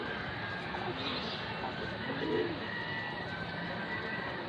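Loose pet pigeon cooing softly at moderate distance, its low calls barely rising above a steady outdoor background hiss with faint voices nearby.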